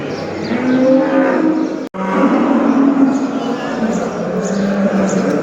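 Cattle at a busy livestock market in Kahramanmaraş moo loudly and continuously, one long low bellow close by, broken by a brief gap, with crowd noise and voices underneath.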